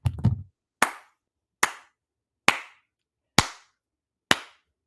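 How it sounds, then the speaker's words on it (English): Slow single handclaps, one person clapping sarcastically: a short flurry at the start, then five sharp, evenly spaced claps about a second apart, close and alone. "Golf claps, Laura"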